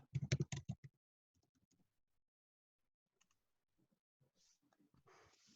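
Keystrokes on a computer keyboard while a date of birth is entered into an online account form: a quick burst of close, crisp clicks at the start, then sparse, fainter taps separated by near silence.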